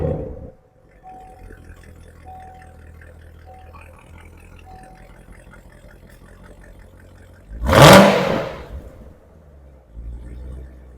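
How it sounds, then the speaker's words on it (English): A Corvette C8 Z06 on its stock exhaust idles with a steady rumble, then snaps into one loud, sharp rev that flares and fades back to idle, with a low engine hum continuing afterward. "That is stock exhaust."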